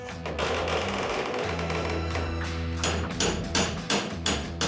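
Knocks and creaks of prying a part off the wooden body of a 1925 fire truck, a steady low hum underneath and a run of separate sharp taps and thuds near the end, close by.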